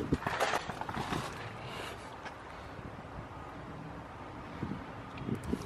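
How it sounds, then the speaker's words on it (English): Steady wind buffeting a microphone outdoors in a junkyard of school buses, a broad rumbling rush with gusts near the start and end, no talking. "It's a little windy here."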